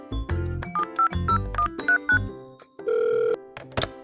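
A phone ringtone plays as a call goes through, a bright electronic melody of short repeated tones followed by a longer held tone, loud and close with no talk over it.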